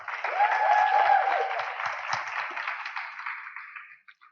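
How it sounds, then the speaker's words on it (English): Award event audience clapping for a young industry honoree, a moderate round of applause that swells quickly, then thins to scattered claps and dies out, with a faint feedback-like tone early on. "a round of applause, please, for Harriet Gisborne"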